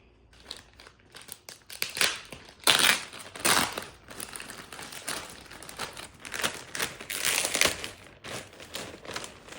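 Plastic packaging around a TONEOF TF-5608 phone tripod crinkles and crumples close up in bursts of tearing and rustling, with no talking.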